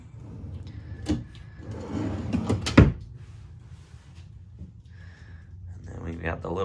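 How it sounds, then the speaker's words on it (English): Drawers opening and closing inside a camp trailer, several sliding knocks and a sharp bump, heard beneath someone talking nearby. "You got more drawers below."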